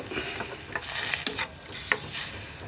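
Pork meat being stirred and spread in a pan over medium heat, giving scraping utensil strokes and light clatter with faint sizzling, a few sharper clicks standing out, close and fairly quiet.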